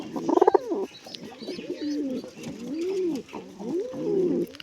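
Grey pigeons coo close by, repeated rolling bubbling coos in a loose rhythm, with a brief burst of wing or other noise at the start.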